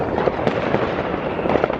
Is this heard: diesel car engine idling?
no